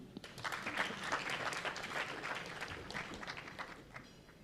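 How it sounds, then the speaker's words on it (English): Applause from a crowd at a university political handover ceremony, a quiet, distant wash of many hands clapping that stays fairly even for several seconds with slight swells. "Can you clap for me?"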